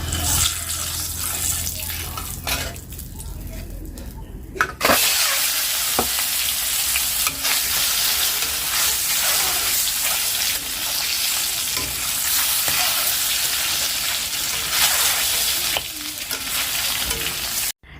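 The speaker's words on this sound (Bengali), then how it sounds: "এবারে শিলনোড়াটা ভালো করে ধুয়ে ধুয়ে রেখে দেই" Stone grinding slab (sil-nora) washed under running water in a home kitchen: a steady splashing gush of water with scrubbing and occasional knocks, close and continuous.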